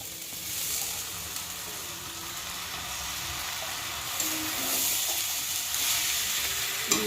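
Soaked sago fries in a pan with dal and vegetables for sago khichuri, producing a steady, moderately loud sizzle with a few faint stirring sounds and no speech.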